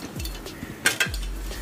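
Whole spices, mace, black pepper and green cardamom, go into a pot to dry roast, making a few sharp metallic clinks and clatters of utensil against pan, close by, without speech.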